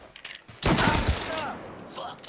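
Burst of rapid gunfire in a shootout in the Mafia 3 video game, a loud dense volley lasting over a second before tapering, with a voice around it.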